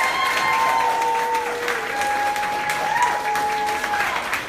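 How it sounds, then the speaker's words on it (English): An audience at a SXSW launch event applauds panelists walking to their chairs, full steady clapping throughout with sustained tonal music notes running underneath. "a round of applause for these amazing panelists as they come up to their chairs"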